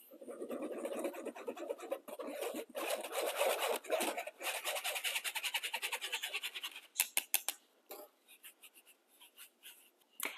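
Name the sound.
sifting flour, baking powder and salt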